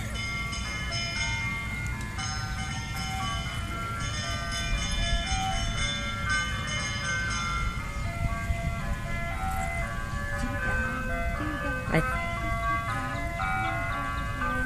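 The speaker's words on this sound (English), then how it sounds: "Oh boy, the ice cream truck." An ice cream truck drives down a neighborhood street playing its jingle, a steady melodic tune of repeating tones that runs the whole time at moderate distance with low traffic rumble beneath.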